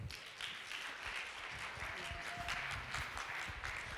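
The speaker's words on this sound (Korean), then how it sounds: "박수 부탁드리겠습니다." Modest audience applause at a college performance-sharing event, fairly quiet and steady, with faint background sounds mixed in.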